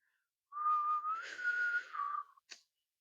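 A person whistles softly in imitation, holding a few tones with a slight rise and dip, followed by a short breathy note, in a quiet room.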